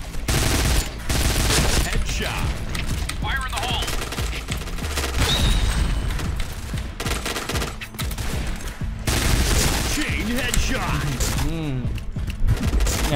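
An Uzi Recamo in the shooter game Point Blank fires in rapid, loud automatic bursts, with several sustained volleys broken by brief pauses, while someone talks excitedly over the shooting.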